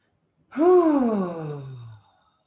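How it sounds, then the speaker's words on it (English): One deep breath, drawn in and let out with a voiced, sighing tone, swells quickly and then fades over about a second and a half in a quiet room. "take a nice deep breath."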